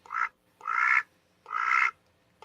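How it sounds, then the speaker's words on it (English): A pet duck named Mochi quacks at close range, three loud drawn-out quacks in an uneven rhythm and the start of a fourth at the end, with no talking over them. "Can you hear him when he quacks?"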